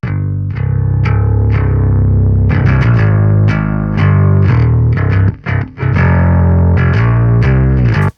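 Metal bass guitar through an amp simulator with extra gain added, loud, fuzzy and farty in the low end, with picked notes and chugging riffs and a brief gap near the end, no talking.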